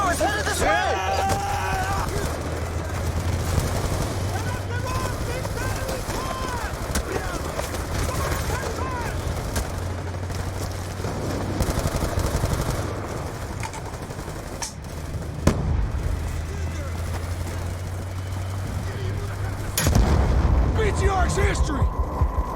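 Rapid rifle fire and heavy explosions rumble through a Call of Duty Black Ops 2 battle as RPG rockets strike and destroy an armored BTR vehicle, with dense low booms throughout and shouted voices over the din.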